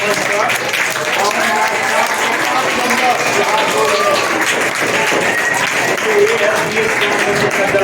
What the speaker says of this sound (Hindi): मैं जोरदार ताली के साथ बुलाना चाहूँगा